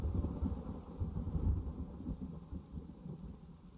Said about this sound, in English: Told you we wake up with the rain.